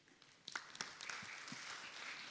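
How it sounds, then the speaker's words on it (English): Faint, distant audience applause after a speech at a road show and awards event in Dubai, scattered claps rising into a steady soft patter. "a big round of applause"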